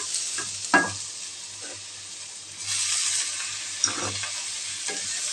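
Ginger garlic paste stirred and fried in a hot pan, a steady close sizzle with a few sharp scrapes and clinks of the spoon, the frying hiss swelling louder midway.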